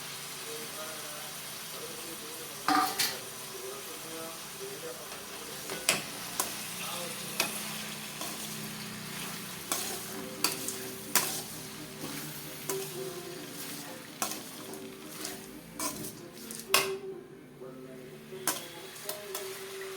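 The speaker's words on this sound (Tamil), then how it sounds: "இப்போ நம்ம வச்சிருக்கிற வல்லாரக்கீரையை போட்டுக்கலாம்." Vallarai (pennywort) greens fry in a pan for a thuvaiyal, giving a steady soft sizzle broken by repeated sharp scraping clicks of a spoon stirring against the pan.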